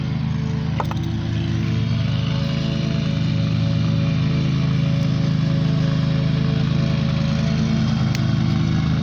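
A 1944 Farmall H tractor bought at auction runs with a steady, loud, low-pitched engine drone close by, holding an even idle throughout with no talk.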